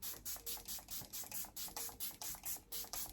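Makeup setting spray misted onto a face in a steady run of about a dozen short, hissing pump bursts, close and fairly quiet, with no talking.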